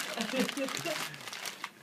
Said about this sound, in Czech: Jo, mačkáme je do koše.